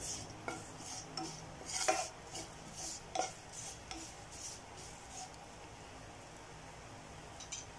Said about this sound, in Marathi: धने, बडीशोप, जिरं भाजून घेणार आहोत।